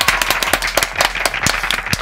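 Studio audience clapping at a Thai reaction talk show, a brisk burst of sharp, uneven claps close by with no talk over it.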